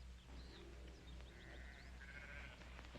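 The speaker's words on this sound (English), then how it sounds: "Adam, let me get those sheep on the move." Faint, distant bleats from a flock of sheep, scattered across a few seconds over a constant low rumble.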